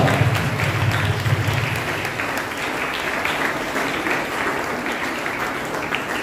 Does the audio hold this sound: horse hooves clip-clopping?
no